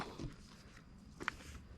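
Footsteps along the bank of the Mekong River at Ban Aya, Rattanawapi, Thailand, a few soft close steps on an outdoor path, one sharper scuff standing out near the end, with faint background ambience.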